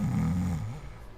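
A person imitates a gentle snore with one soft, low, rumbling inhale lasting about a second, close and fairly quiet, with no other voices.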